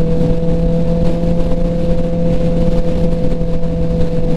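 A 2021 Kawasaki ZX-10R motorcycle cruising on an expressway, loud steady engine drone with a constant tonal hum and heavy wind rush, sustained without a break.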